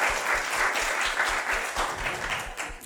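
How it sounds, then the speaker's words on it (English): A seated audience at a business talk on small-business funding applauds steadily for about three seconds. The dense, even clapping is fairly close, with no voice over it. "Please give them a round of applause."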